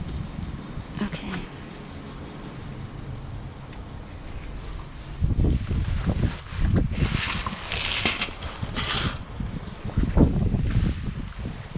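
Wind blows outdoors at a dumpster, a broad rushing and buffeting against the microphone that grows stronger and gustier in the second half, with faint rustling underneath.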